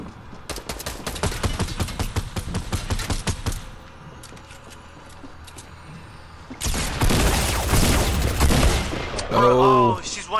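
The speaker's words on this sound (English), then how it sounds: "Oh, another squad shooting at me." Rapid bursts of automatic gunfire from an enemy squad in a battle royale shooter, loud and dense for several seconds, then a pause before another heavy volley of shots and explosions near the end.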